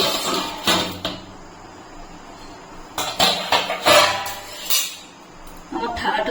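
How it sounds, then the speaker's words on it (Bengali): Metal lid lifted off a pot on a gas oven during zebra biscuit baking, giving a few clinking, clattering knocks of metal against metal, close and fairly loud, separated by brief quieter pauses. "10 মিনিট হয়ে গেছে, আমি এখন ঢাকাটা খুলে নিচ্ছি।"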